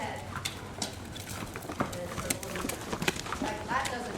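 Hooves clip-clop as a horse moves under a rider during a riding lesson, the irregular footfalls light and fairly close, mixed with an instructor's voice talking over them.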